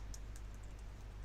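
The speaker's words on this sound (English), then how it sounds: "go to LinkedIn job and start typing your keyword" Short burst of typing on a computer keyboard while entering a job search keyword, a few soft faint clicks over a steady low hum.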